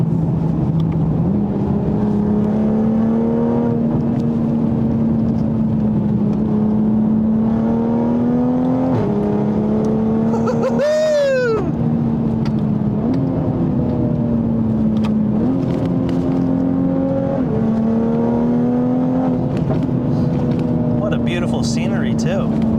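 A 2020 Toyota Supra, tracked version, drives along a road on a cold morning, its engine holding a steady hum that rises and shifts with gear changes under interior cabin noise.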